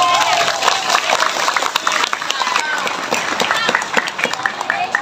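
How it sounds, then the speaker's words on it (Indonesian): Lively audience applause at a Maulid Nabi religious gathering, loud and close, with uneven claps, crowd murmur and voices mixed into the clapping. "Tepuk tangan dong."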